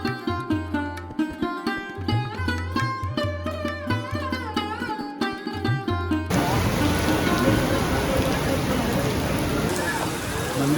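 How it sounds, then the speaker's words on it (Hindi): Heavy monsoon rain pours at Meenakshi Temple in Madurai, a dense steady hiss that takes over abruptly midway, following a stretch of music with talk. "लेकिन बारिश हो रही बहुत तेज़, इसलिए सब लोग वेट कर रहे हैं।"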